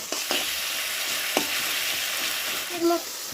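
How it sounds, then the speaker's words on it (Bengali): Pumpkin flowers and tomatoes sauté in a pan with a steady close sizzle, broken by a few light scrapes and clinks of a spatula stirring. "আরও তিন থেকে চার মিনিট সময় নিয়ে কষিয়ে নেব যতক্ষণ না পর্যন্ত কুমড়ো ফুল আর টমেটোগুলো ভালোভাবে গলে যায়"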